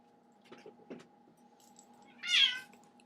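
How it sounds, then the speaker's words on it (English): A cat gives one short, sharp meow after being stepped on, preceded by faint clinks over a low steady hum, quiet and close. "that would be the cat that I stepped on"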